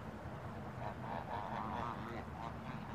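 Ducks call in a park in a steady run of honking, quacking cries that rise and fall over a noisy outdoor background, with no one talking.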